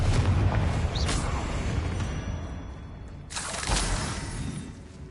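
Bombarda and Confringo blasting spells go off in a Hogwarts Legacy dungeon: two heavy, booming blasts with a crackling burst, the second louder and longer, over a low rumbling game ambience.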